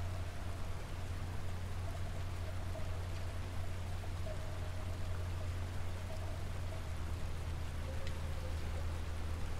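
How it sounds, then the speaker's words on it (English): Steady water rushing and pouring down a sewer waterfall in a video game, a constant broadband wash with a low droning hum underneath, filling the whole stretch without speech. "It's hanging out in a waterfall in a sewer."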